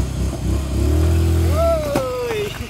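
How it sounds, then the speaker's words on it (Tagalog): A TVS Dazz 110 scooter engine revs with quick throttle blips, a rising mid-pitched whine climbing over a steady low rumble, close and loud throughout. "Ito yung namimiss ko sa ating TVS Das, yung kanyang throttle response."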